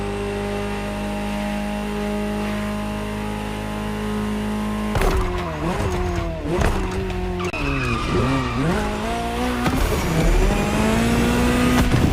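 A Ferrari GTO in the video game The Crew Motorfest: a steady engine drone gives way to loud tire skidding and squealing, with engine revs rising and falling in quick bursts, close and intense.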